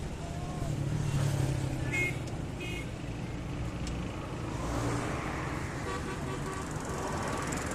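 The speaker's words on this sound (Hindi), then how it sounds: "इसकी वजह से ट्रैफिक जो है वो फाटक में ज़्यादा है।" Road traffic bunched up at a railway level crossing, a continuous rumble of passing cars and trucks with scattered horn toots and a brief beeping, someone talking over it.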